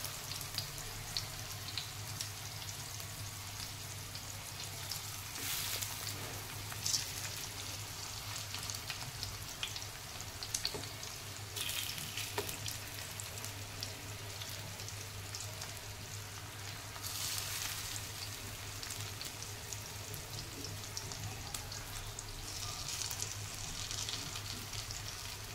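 Taro leaf vadi (aalu vadi) shallow-frying in oil in a pan, a long steady sizzle with periodic louder bursts of crackle and faint clinks, close by, with no one talking.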